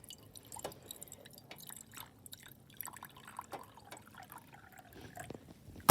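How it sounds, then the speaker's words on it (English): Water trickles and drips into the reservoir of a camping coffee maker, a faint, close pouring sound with scattered small splashes. "First, we're going to fill this part up with water."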